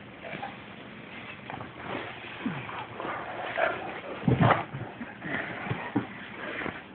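A dog whimpers and yips in short, thin whines, fairly close, with some low rustling between the cries.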